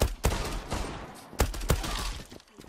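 Rapid bursts of video game gunfire spray in sharp, loud cracks, several shots in quick succession with brief gaps, close and dominant over a noisy game background.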